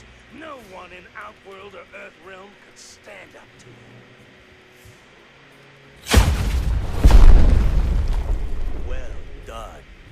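An RPG explodes in the Mortal Kombat 9 fighting game: a sudden loud, deep boom erupts and rolls on for several seconds, after a stretch of quieter game voices and tones.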